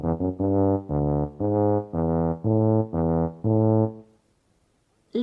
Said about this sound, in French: le tuba